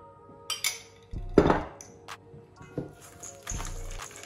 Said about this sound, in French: Donc je vais mélanger tout ça.